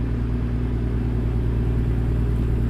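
A Freightliner FLD truck's diesel engine in American Truck Simulator, hauling a load, drones at a steady low rumble with strong bass harmonics, close and continuous without any talk.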